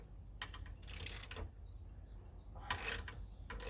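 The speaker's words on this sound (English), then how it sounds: "Right, so I'm going to undo this nut," A wrench or spanner working a mast bolt and nut on a sailboat while lowering the mast, giving a few short ratcheting, clicking bursts spaced apart, fairly quiet with no talk.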